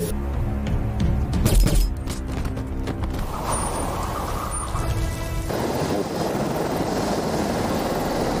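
A helicopter's rotor and engine drone with rapid mechanical chopping, first with clattering impacts, then settling into a steady loud whir and rushing noise with no voices, in a dramatic film scene.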